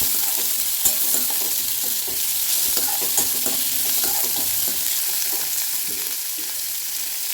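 Onions sizzle steadily in hot oil, with soft scraping and stirring sounds from a utensil in the pan close by.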